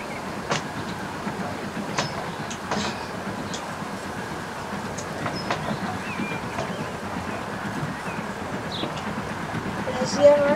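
Two trains on double lines pass each other in the Transport Fever 2 video game, with a low rolling rumble and scattered clicks beneath steady quiet ambience, ending in a slightly louder burst.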